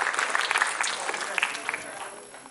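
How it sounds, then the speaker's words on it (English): Applause for a band's musicians at a live music academy show, dense clapping from an audience filling the space, loud at first and tapering slightly, with a voice over it. "A huge round of applause for them,"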